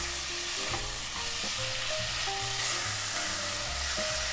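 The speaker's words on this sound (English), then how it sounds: "Stir fry the beef until they turn a little brown." Beef stir-fries in sesame oil in a pot for Korean seaweed soup, a dense continuous sizzle and crackle with occasional scraping stirs, close and steady, with no talking.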